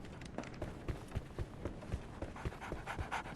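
A dog pants rapidly and steadily at close range in the video game Sherlock Holmes The Awakening, with light footsteps or paw taps alongside the breathing.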